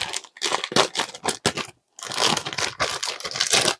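Plastic doll packaging for a Na Na Na Surprise Kitty doll being cut open with scissors and handled, giving loud bursts of crinkling and crunching with a brief silent gap midway.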